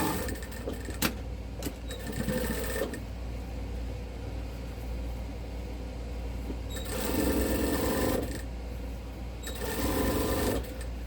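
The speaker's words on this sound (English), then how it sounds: "And just do a top stitch to hold everything in place." Sewing machine top stitching the edge of a Christmas stocking with a heel and toe patch, running in steady bursts with short pauses, close and fairly loud.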